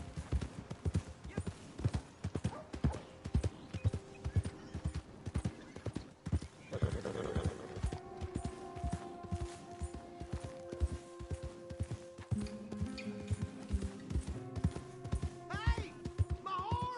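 Horse hooves clip-clop steadily in the Red Dead Redemption video game, with a horse neighing partway through, layered over game music and a voice talking.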